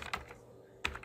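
A web address is typed on a computer keyboard, giving a few quick, crisp key clicks close by, with two separate bursts split by a short pause and no talk.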